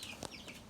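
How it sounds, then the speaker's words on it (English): Chickens cluck and chirp quietly in an indoor coop, brief high calls over a steady faint background hum. "We have set up to look like a chicken coop."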